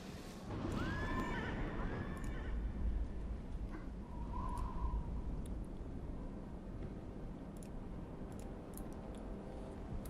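A horse mount in World of Warcraft lets out a whinny early on, heard over a dense, steady game ambience with soft hoof clip-clop and faint chirps.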